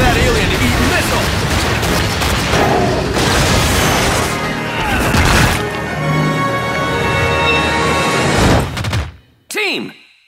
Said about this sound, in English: Time for that alien to eat missile!